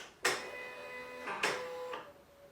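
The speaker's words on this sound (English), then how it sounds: "I have rolled my machine over here. I'm going to turn it on." A cutting machine powering up, two clicks each followed by a mechanical whir with a steady tonal hum, close and fairly quiet, with no talk.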